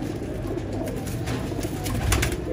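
Flying pigeons for sale coo softly in a low, murmuring flutter, several birds close by against a steady background hum.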